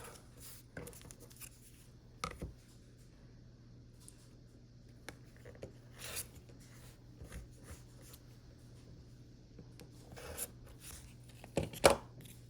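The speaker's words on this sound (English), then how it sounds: "we're going to be cutting on the dotted line" Quilt fabric and foundation paper cut along a ruler, giving sparse, quiet slicing and scraping strokes over a low background hum, with a firmer cut near the end and no voices.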